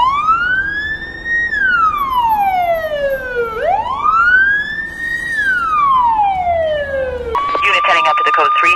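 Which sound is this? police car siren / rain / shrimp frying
police car siren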